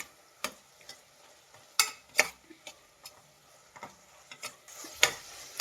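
Ingredients for pudina bath, a South Indian mint rice dish, frying in a pan, heard as a quiet background sizzle punctuated by sharp, irregular scraping clicks of a spatula stirring against the pan, no talking.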